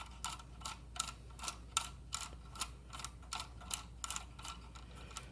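Electron Robot toy's internal mechanism running, giving a steady series of about a dozen crisp, evenly spaced clicks and ticks, close and quiet, with no voices.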